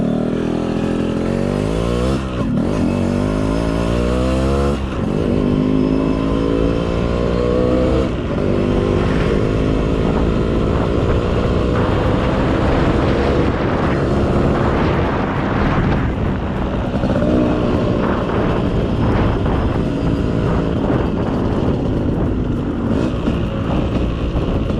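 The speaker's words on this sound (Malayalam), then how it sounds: "ഒറ്റ കിക്കും നമ്മുടെ പുലിക്കുട്ടം സ്റ്റാർട്ടാവുന്നുണ്ട്" A 2002 Yamaha RX 135 two-stroke motorcycle, modified, runs steadily after a single kick start, its loud, close engine revving up and down with rising and falling pitch throughout.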